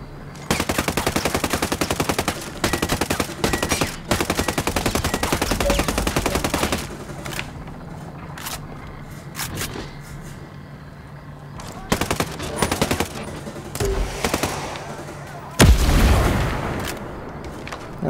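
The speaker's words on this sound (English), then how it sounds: "this is my mortar" A mortar fires in the Ghost Recon Breakpoint video game amid rapid automatic gunfire, with long loud bursts at first, then scattered booms and shots, and a player talking over it.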